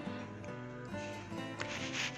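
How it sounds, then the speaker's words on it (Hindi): A brush scrubs a foot during a basic pedicure, giving a steady, close, continuous rubbing and scraping texture throughout with no speech. "ब्रश के साथ आप अच्छी तरह से रब कर सकते हैं।"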